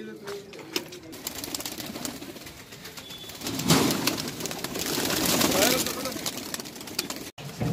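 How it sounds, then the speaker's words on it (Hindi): Punjabi pigeons at a breeder's loft near the race course in Dehradun coo softly in the background, under someone talking and the hum of a nearby engine. "बहुत ही उमदा कबूतर है और बहुत ही अच्छी क्वालिटी के कबूतर है भैया के पास।"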